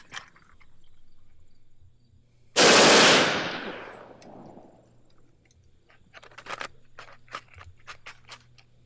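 A rifle fired on full auto gives a single loud, close burst of rapid shots that decays into echo, framed by quieter handling clicks and rattles before and after.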